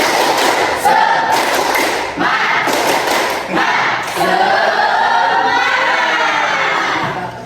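A classroom of students performs the rhythmic 'tepuk semangat' spirit clap, loud bursts of patterned clapping and thumps alternating with group chanting and shouts, close and energetic throughout.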